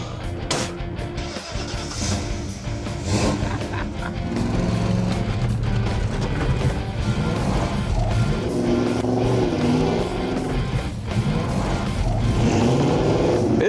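A 2015 Subaru Legacy and a Ranchero project car race on dirt, engines revving and roaring loudly as they accelerate and pass, with gravel crunching under the tires.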